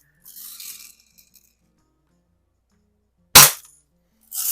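A repaired 1930s Daisy King BB gun fires a single sharp, loud crack at close range, with softer rattling mechanism noises before it and again at the end.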